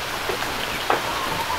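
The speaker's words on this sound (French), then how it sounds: "En fait, belle pluie de Maurice." Steady rain in Mauritius hissing evenly throughout, with one short sharp tap near the middle and a thin tone drifting above the wash.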